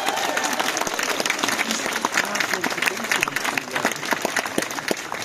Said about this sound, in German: Großen Applaus für Lisa. Unterstrich Fee. Ihr dürft klatschen, kommt.